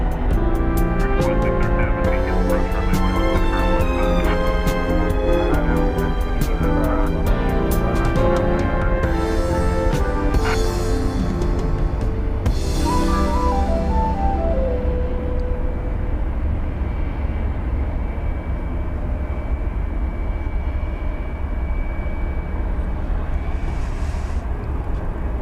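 A jet airliner taking off from Dallas Fort Worth airport bound for Buenos Aires at night, a loud sustained engine roar with whining tones that rise and then fade into a broad rumble as it climbs away.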